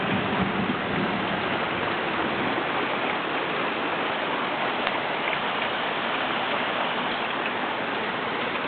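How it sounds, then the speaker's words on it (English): Pails are washed out with flowing water at a small gold mine, a steady, even rushing and splashing that fills the whole stretch with no break. "And I'm going to go and wash those pails."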